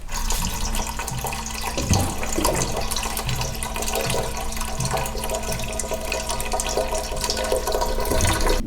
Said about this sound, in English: Now we're gonna get started washing all of our lovely produce.